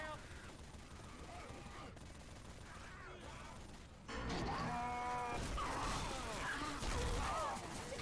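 Gunfire in the zombie video game Left 4 Dead 2 during a versus match, rapid shots under a steady din of game noise that grows louder and busier partway through.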